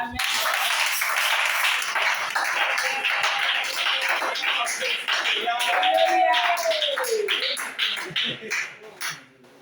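A church congregation applauds in a sustained wash of clapping that thins out and fades near the end, with a voice rising briefly over it.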